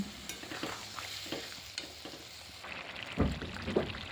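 Malabar spinach (pui shak) being stirred in a pan with fish oil and water, a soft scraping and sizzling that runs steadily, with a louder clatter of spoon against pan near the end; no voices.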